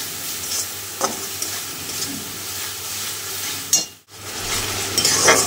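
Ground chilli, cumin, turmeric and black pepper powders with salt being stirred and fried in oil for a fish curry, a steady close sizzle with occasional spoon scrapes, briefly cutting out near the end before resuming.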